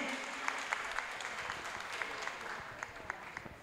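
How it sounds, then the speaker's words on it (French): Quiet audience applause at an outdoor community talk event in Port-Bouët, a soft continuous clapping texture with a few sharper individual claps standing out. "d'ailleurs ça s'applaudit"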